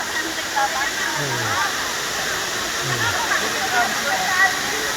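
A waterfall roars with loud, steady rushing water that fills the whole scene, and a voice speaks briefly over it.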